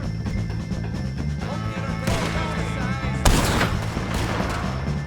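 Gunfire in Red Dead Redemption 2 during a fight with O'Driscoll gang members, with loud close shots and bursts cracking over a steady low rumble and ringing tones.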